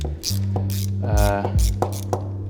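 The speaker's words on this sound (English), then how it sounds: "unscrew and loosen all the nuts around here before we take it off" A spanner clicks and ratchets while loosening nuts on the suspension springs of a Maserati A6, with close mechanical clicks over a steady low hum.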